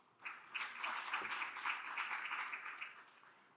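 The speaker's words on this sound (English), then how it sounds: "Can we give them another round of applause?" An audience at a conference session on data use for the GBF monitoring framework gives a soft, even round of applause. Many hands clap together at a distance for a few seconds, then the clapping slowly thins out.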